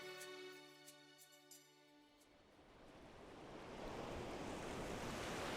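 Ocean surf rolls onto a beach as a steady, swelling wash of noise that grows after soft music fades out early on, heard faintly from a distance.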